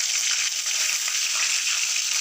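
Curry leaves hiss and sizzle in hot oil with popped mustard seeds in a pan for upma, a steady loud close frying hiss with faint crackles throughout and no voices.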